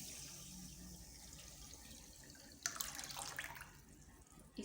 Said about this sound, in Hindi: 4 कप पानी जाएगा।